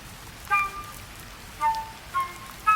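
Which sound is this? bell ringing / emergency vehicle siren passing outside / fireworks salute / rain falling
rain falling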